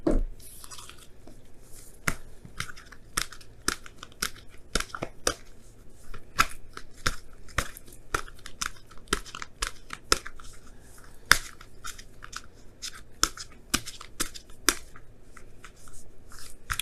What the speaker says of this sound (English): Now I'm going to pull you guys your wisdom of the oracle cards for this week.